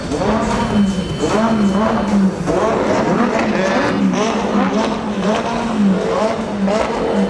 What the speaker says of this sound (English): A late Mustang followed by a Lamborghini. Backed up by GTR.